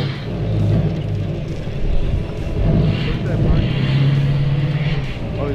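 Engines of side-by-side off-road vehicles with aftermarket exhaust, a Kawasaki KRX 1000 and a Polaris RZR Pro XP, drone loud and throaty on a trail, rising and falling in pitch, while people talk over the rumble.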